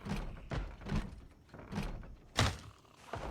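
Repeated heavy thuds of a shed door being forced in Project Zomboid, about seven blunt whacks at a steady, slightly uneven rhythm, close and alone with no talk.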